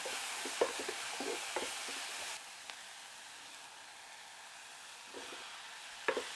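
Garlic sizzles in a soup pot, a steady soft frying hiss with a few stirring knocks; the sizzle drops to a quieter hiss partway through before brief clinks return near the end.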